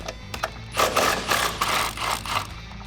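A hand ratchet works on 19mm top shock bolts on a 2015-2019 Mustang, giving a short run of rapid clicking pawl strokes in quick bursts, close and fairly loud, with no talking.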